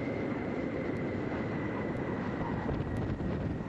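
Space Shuttle Discovery rolls out on runway 15 at Kennedy Space Center after landing, a steady, loud broadband roar and rumble heard continuously and distant.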